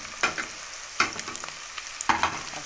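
Onion-based base for a shrimp soup sizzles in a hot pan as it is stirred, with three distinct scraping strokes of a spoon over a soft, continuous frying hiss, close and without talk.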